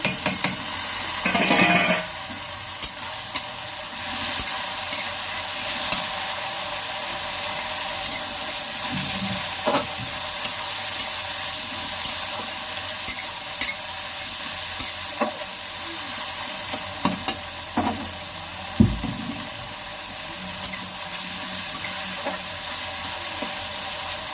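Tomato tipped into a pan of browned fried onions, then a long steady sizzle with repeated scraping stirs and spoon knocks, a brief burst of hissing near the start, no talking.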